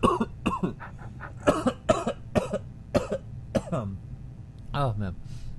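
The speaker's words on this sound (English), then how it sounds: "Excuse me, I got a cough." Several sharp coughs break up a man's speech in a rapid irregular series, close and loud, with a throat-clearing sound toward the end.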